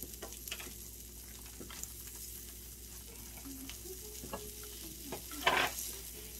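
Meat sizzles and fries on a home hibachi grill in a steady crackling hiss, with scattered clinks and stirring noises and one louder burst of sizzle near the end.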